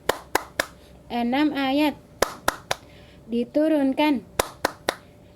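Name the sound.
rhythmic hand clapping for the Tepuk An-Nas chant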